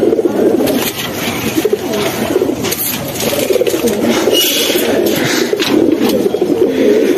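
Bagha pigeons cooing close by in a continuous low, rolling murmur, with faint rustling in the background.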